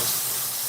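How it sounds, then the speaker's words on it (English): Chanterelle mushrooms shallow frying in a pan, a brief, close, dense sizzling hiss that stays steady and fairly loud. "And this is called a shallow fry."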